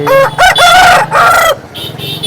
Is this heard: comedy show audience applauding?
no